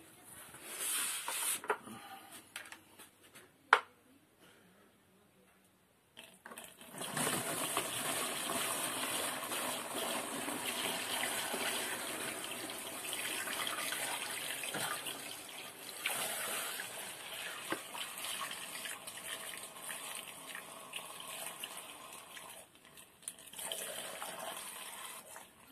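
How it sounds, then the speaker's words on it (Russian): Fermented grape mash for cha-cha drains into a plastic container, a steady gushing pour of liquid that runs continuously after a few quiet moments and handling knocks. "Так, и сливаем в пластиковую емкость."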